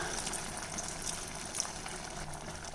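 A small amount of water is poured into a simmering minced-meat gravy in a pan, a soft, steady liquid splash and gush, close but faint, lasting a few seconds.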